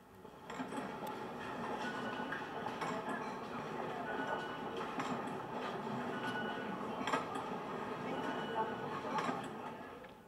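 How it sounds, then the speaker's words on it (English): Turnstiles clack and ping at a busy La Défense subway station, a steady wash of crowd and machinery noise with repeated metallic ticks and occasional louder knocks, no talk. "Only interrupted from time to time by a dissonant bonk, a silence, a bonk again as the person tries to pass through the turnstile again."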